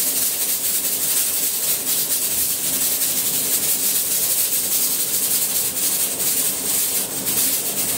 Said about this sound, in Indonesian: Ini tuh suara prestonya udah keluar uapnya.